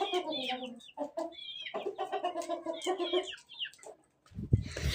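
Close, busy clucking from a hen and rooster, a run of varied squawky calls with brief pauses, ending in a rustling thump.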